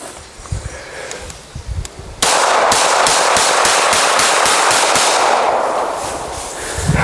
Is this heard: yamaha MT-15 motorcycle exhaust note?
no